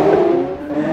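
A Bajaj auto rickshaw engine revs in Minecraft, a loud, close, droning whine that dips briefly before rising again over one second.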